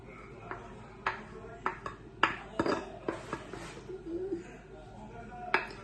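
Egg yolks being mixed into meringue in a home kitchen, with clinks of utensils against a bowl and scattered scraping taps at an irregular pace, close and moderately loud, with a voice talking over parts of it.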